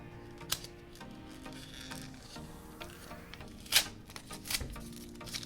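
A paper package of anime merchandise being opened up close, with crinkling paper rustles and a few sharper tearing bursts. The sound is fairly quiet and nobody speaks.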